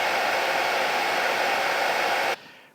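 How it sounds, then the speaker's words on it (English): A hair dryer blows with a loud, steady whoosh, then cuts off abruptly near the end, leaving quiet room noise. "I've just dried it off a bit with a hairdryer"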